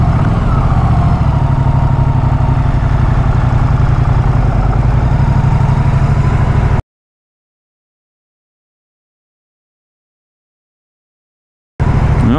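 A 2024 Moto Guzzi Stelvio motorcycle engine runs with a steady low throb, loud and close, then cuts to silence before a short return at the end.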